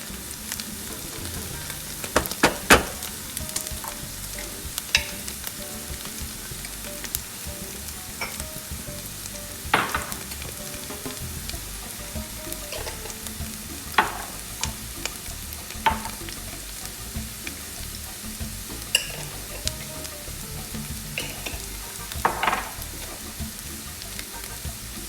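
Turmeric-coated cauliflower roasts in a hot pan with a steady crackling sizzle, dotted with sharp pops and snaps much like a campfire, heard close and on its own for about twenty-five seconds.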